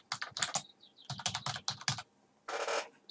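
Typing on a computer keyboard while writing an email: bursts of quick, close, crisp key clicks in uneven clusters with short pauses, ending in a longer rattling run of keystrokes.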